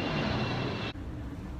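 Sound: airplane flying overhead

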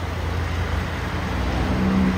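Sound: bus coming down the hill

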